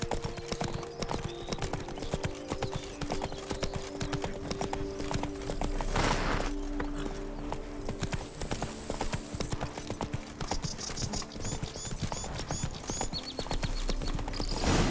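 A horse gallops in The Witcher 3, its hooves beating a rapid, steady clip-clop throughout, joined by a brief whinny partway through and faint jingling tack over a low game ambience.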